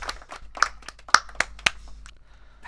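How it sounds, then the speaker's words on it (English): A handful of sharp, separate hand claps ring out unevenly over a low background murmur in a video game, more a scattered clap than full applause. "Let's have a moment and just clap that."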